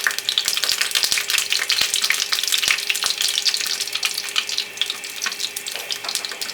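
Beetroot vada fry in hot oil over medium heat, a bright crackling sizzle with bubbling pops and a few sharp ticks near the start, continuous and fairly close.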